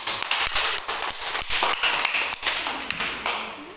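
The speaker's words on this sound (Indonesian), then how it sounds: "Tepuk tangan dulu." A school class clapping hands together in a classroom after a group presentation: a dense, lively burst of sharp claps from many students, steady and close for nearly four seconds.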